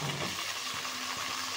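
Thickly cut brinjal pieces sizzle and fry in a hot pan, a steady low crackle with soft stirring scrapes around it, no voices.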